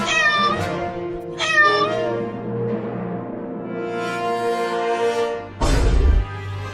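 A kitten meows several times, drawn-out tonal cries close by, with a louder, harsher meow near the end.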